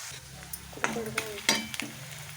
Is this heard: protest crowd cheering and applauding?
no